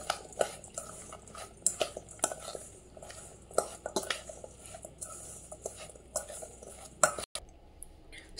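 A spoon scrapes and clinks against a bowl while stirring a mango and ginger pickle mixture with cumin, mustard and fenugreek powders, bursts of close, repeated metallic taps and scrapes at an uneven rhythm, quiet between strokes.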